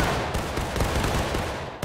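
A company volley of musket fire in a multiplayer line-battle game, a dense, loud crackle of many overlapping shots lasting under two seconds.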